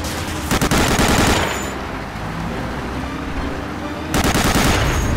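Weapon fire in Medal of Honor: Allied Assault, loud automatic bursts opening and closing the stretch with a steady roar of combat noise between them.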